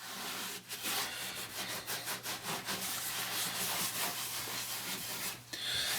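Paste wax being rubbed into a wooden surface by hand, a steady close scratchy swishing with repeated back-and-forth strokes and no talking.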